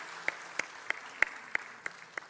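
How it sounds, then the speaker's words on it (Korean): Evenly spaced single claps ring out about three times a second in a church service, seven in all, faint and sharp, with quiet in between. "하나님께 영광의 박수를 올려드립니다."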